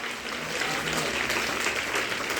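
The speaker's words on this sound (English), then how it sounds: "Please everyone give a big round of applause." Students and staff applaud a correct quiz answer at a school morning assembly: steady, dense clapping from a large crowd, continuous and fairly even throughout, with no speech on top.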